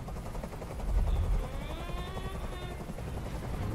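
A helicopter hovers overhead in Detroit: Become Human, its rotor thumping in a steady rapid beat with a whining turbine tone above, loud and close throughout.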